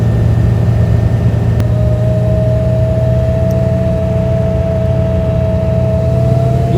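An engine idles with a steady, close, loud rumble and a faint sustained whine, with no clear acceleration heard.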